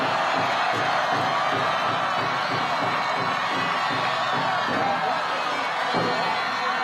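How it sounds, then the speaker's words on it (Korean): A large outdoor crowd at a Seoul election rally cheers and applauds, a continuous roaring wash of voices and claps, loud and sustained with occasional shouts. "여러분 다시 한번 큰 박수 부탁드립니다"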